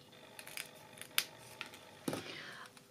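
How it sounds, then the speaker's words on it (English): Scissors make several light, crisp snips while trimming the edges of a paper card, quiet and close. "And then you can snip those."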